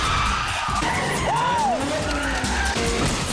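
A Mitsubishi Evo 7 with 280 horsepower skids with rising and falling tire squeals over a loud, constant engine roar, close and sustained for a few seconds.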